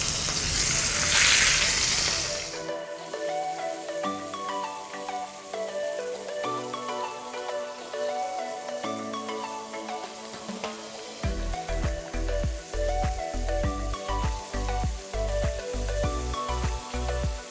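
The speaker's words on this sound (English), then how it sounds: "This browning that happens on the outside of the beef, that is going to give us all the flavor that we can possibly get out of that beef." Beef short ribs for an Indonesian rendang brown in a hot pan, a loud sputtering burst at first, then a steady close sizzle with occasional crackles, alongside a low hum.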